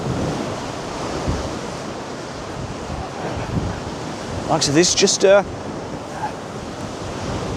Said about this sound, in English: I'm just waiting for one of these waves to come right over